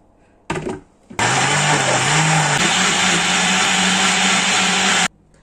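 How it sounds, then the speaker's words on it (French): An electric blender whirs loudly as it blends beetroot and chocolate cake ingredients with water, starting with a brief pulse, then running in one sustained, steady grind for about four seconds before cutting off. "Et on va mixer le tout."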